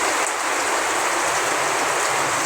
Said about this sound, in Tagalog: Sobrang lakas ng ulan po dito sa amin.